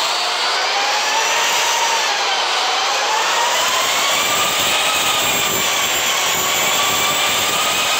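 A light airplane inbound for a straight-in landing on runway 7 right, its engine a steady, fairly loud drone with a slowly shifting pitch throughout, no voices over it.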